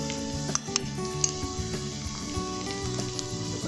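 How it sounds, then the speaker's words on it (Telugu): Carrot and capsicum fry with onions in a pan, giving a steady sizzle with sharp metallic clinks and scrapes of a spatula against the pan. "ఇప్పుడు క్యారెట్ అండ్ క్యాప్సికమ్ వేసుకుందాం."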